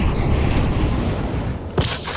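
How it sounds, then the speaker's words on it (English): A Molotov-style incendiary grenade is thrown in Counter-Strike 2 on the Nuke map, a sudden whooshing burst cutting through steady loud game ambience, close and alone with no talk. "Incendiary out."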